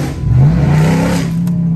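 A Dodge SRT car drives past with a brief rising engine rev, a loud close growl swelling then settling over under two seconds, with no talking.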